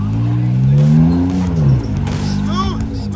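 An off-road vehicle's V8 engine revs hard in mud, rising to a loud roar and then falling away before climbing again, with spectators talking and shouting over the noise.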